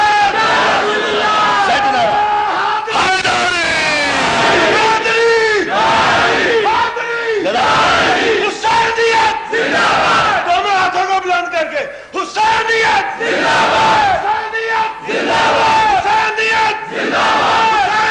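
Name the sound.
crowd shouting the Naara-e-Haidari slogan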